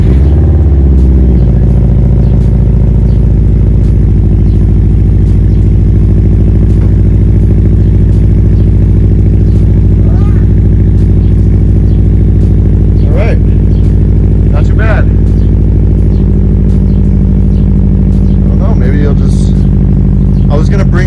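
A turbocharged all-wheel-drive five-speed hatchback idles steadily after starting, a close, loud, continuous engine rumble with faint clatter over about twenty seconds and no speech.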